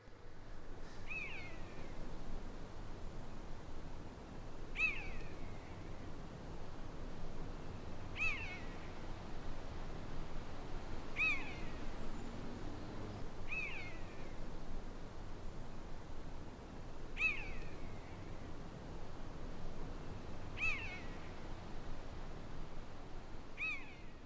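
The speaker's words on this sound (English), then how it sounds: "Do you hear that? Yeah. That's a buzzard." A buzzard gives a plaintive, mewing call, repeated roughly every three seconds across open countryside, distant and faint over a steady hiss of wind and ambient noise.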